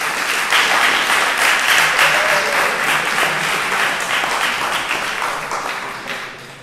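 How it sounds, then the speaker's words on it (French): An audience at the Prix Cassin 2023 ceremony at Sciences Po Aix applauds in a dense, loud wave of clapping that holds steady before fading out toward the end. "Je vous demande tout d'abord d'applaudir"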